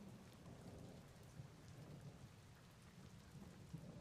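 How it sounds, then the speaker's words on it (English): Steady rain in a video game, a dense even hiss with a low rumble underneath, faint and continuous throughout, with no talking. "The rain."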